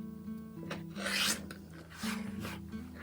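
Quilt block fabric edges are trimmed along a ruler, giving two soft rasping, scraping strokes close by over a low steady hum, with no talking.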